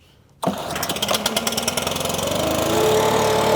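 A STIHL BR 600 backpack leaf blower's two-stroke engine sputters to life abruptly, firing in rapid uneven pops that build into a steady rough running drone.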